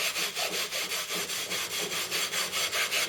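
An ENJO scrub works hard across a kitchen surface marked with ten years of stains, flame and burn marks, giving a steady, loud back-and-forth rasping in rapid even strokes, close up and without voices.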